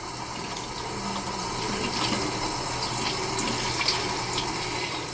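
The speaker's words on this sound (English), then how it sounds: "You rinse it under running water." Hands rinsed under a running tap, a steady close rush of water splashing into a sink with small shifts in the flow throughout.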